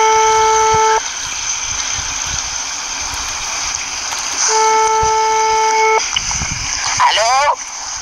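Telephone tones ring out during a phone-a-friend lifeline on a French TV quiz show: two steady beeping bursts, about a second and a second and a half long, over a constant electronic studio hum, with a short warbling sweep near the end.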